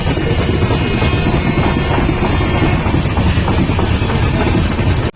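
A crowded local train rolls along near Uluberia, heard from inside as a loud, continuous rumble and rattle with wind buffeting, ending abruptly.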